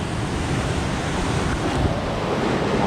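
Sea waves wash steadily in a small fishing bay by a beach, a continuous broadband surf roar mixed with gusting wind across the microphone, with no talking.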